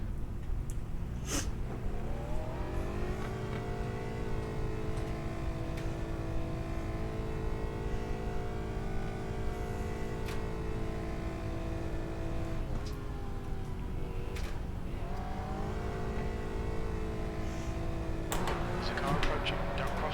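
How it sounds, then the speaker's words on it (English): An Aston Martin GT4 race car drones steadily through a 24-hour endurance race, its engine tone rising and falling with gear changes while another car closes in, with a driver's voice over the radio at times. "There's a car approaching."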